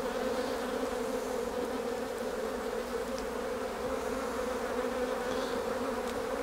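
Honey bees in an open beehive give a constant, even buzzing drone, fairly close and uninterrupted, with no talking.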